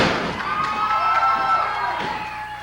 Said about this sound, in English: Listen to the crowd here in the Ohio Valley. They're screaming at Trailer Park.